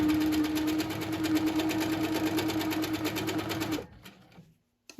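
A sewing machine hums and stitches at a fast, even pace during free-motion quilting of pebble patterns in fabric, running loud and steady before stopping abruptly near the end, leaving quiet.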